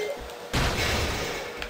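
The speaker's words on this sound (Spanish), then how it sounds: "Hasta la explosión te puede hacer daño." A fiery explosion bursts in the side-scrolling video game Shantae Risky's Revenge, a sudden loud boom that hits about a third of the way in and rumbles on with crackling noise.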